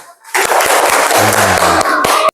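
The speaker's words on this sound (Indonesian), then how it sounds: "Kasih tepuk tangannya." A classroom of students clapping together after a group presentation in a coding and artificial intelligence lesson, a dense, loud burst of applause lasting about two seconds with a few voices mixed in.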